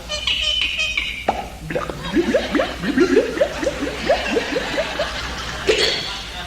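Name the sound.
voice imitating water gurgling from bottle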